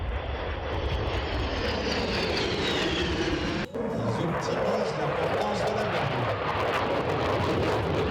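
A real aircraft flies overhead at an air show, a steady loud engine roar with a sweeping pitch and wind buffeting, continuous throughout.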